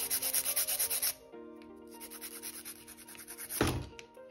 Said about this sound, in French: Vous allez limer bien droit des deux côtés et ensuite on va pouvoir s'attaquer à la forme amande.